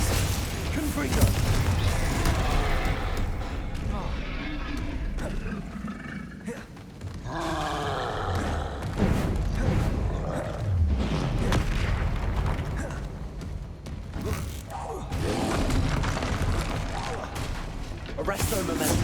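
Rapid spell casting in Hogwarts Legacy combat, with Depulso, Glacius and Confringo blasts piling into a dense, continuous barrage of booms, crackles and roaring impacts, loud and near throughout.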